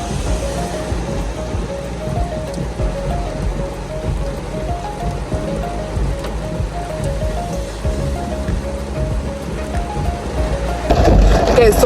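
Heavy rain during a rainy-day stop, a continuous dense patter and hiss throughout, with a steady tone running underneath and a louder burst near the end.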